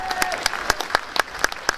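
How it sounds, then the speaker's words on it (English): An audience at a Women of Steel commemorative event and statue unveiling in Sheffield claps, producing dense, lively applause with sharp individual claps standing out, close and sustained throughout. "Give him a big round of applause"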